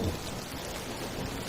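Steady rain from the Minecraft video game hisses as a dense, even wash, with a faint low rumble underneath and no voices over it.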